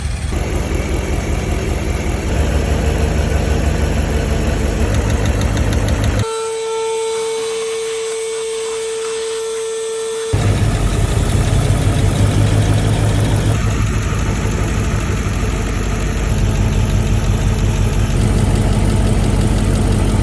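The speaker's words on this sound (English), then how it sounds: "you can tell the engine is slightly missing. It's running great, but it definitely has a slight miss" A Mercedes W140 car engine idles steadily with a low rumble and a faint uneven stumble from a slight misfire, interrupted midway by a few seconds of a steady high-pitched tone.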